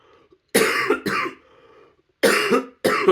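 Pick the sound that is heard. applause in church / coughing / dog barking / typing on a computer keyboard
coughing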